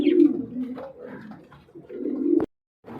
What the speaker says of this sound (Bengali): এখানে দেখতে পাচ্ছেন আরেকটা পেয়ার এটা হচ্ছে বিউটি হোমা এটা রানিং পেয়ার